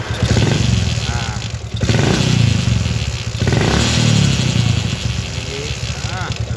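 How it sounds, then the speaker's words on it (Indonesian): A Yamaha Jupiter MX motorcycle engine with a strange noise, like a catching transmission gear, revs in repeated surges, loud and close, with a rattling clatter under the engine note and someone talking over it. "kayak enek gigi transmisi yang nyantol guys suaranya."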